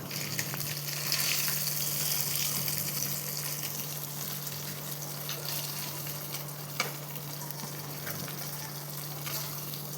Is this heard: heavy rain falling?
no